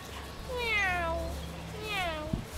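A cat gives two drawn-out, falling meows, one after the other, with a low voice faintly audible underneath.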